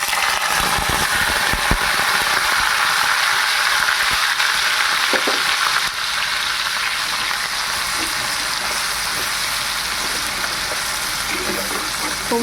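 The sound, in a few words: whole cumin and onion frying in oil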